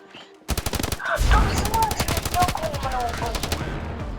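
Rapid bursts of M4 automatic rifle fire in the video game Standoff 2, loud and close, continuing in quick rhythmic volleys for several seconds.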